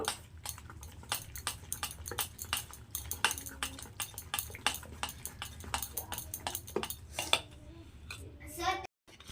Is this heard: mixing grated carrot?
yes